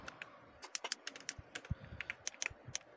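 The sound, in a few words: typing a task description on a computer keyboard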